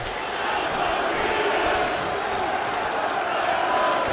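A large arena crowd at a UFC fight roars and chants in a dense, steady wall of sound that stays loud and unbroken throughout.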